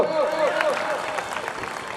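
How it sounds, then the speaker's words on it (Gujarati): A crowd applauds steadily at an awards ceremony, a dense patter of clapping over which a voice speaks briefly at the start. "તાળીઓ પાડો ભાઈ, તાળીઓ પાડો."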